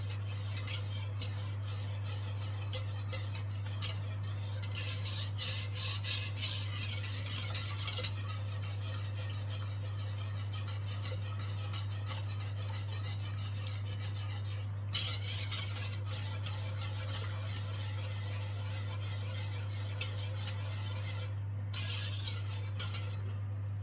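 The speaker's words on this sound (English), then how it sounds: "So I'll keep stirring." Milk being stirred into a sauce for a vegetarian lasagne, with steady spoon-on-pan scraping and soft clinks over a constant low electrical hum, in bursts that come and go.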